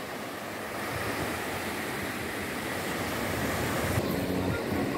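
Ocean waves on the beach at Itamaracá, Brazil, a steady broad wash of surf rolling continuously with some wind noise, fairly loud and with no talk.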